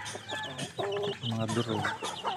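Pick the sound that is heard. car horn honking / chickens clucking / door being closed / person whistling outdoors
chickens clucking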